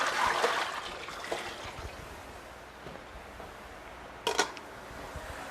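Water pours and trickles off Japanese sushi rice being rinsed in a pan: a steady soft wash with a brief louder splash near the end, and no voices.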